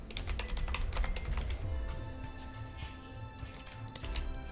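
Quick bursts of typing on a computer keyboard while an account name is entered during Windows 11 setup, close and moderately loud, a busy run of clicks that slows briefly before picking up again.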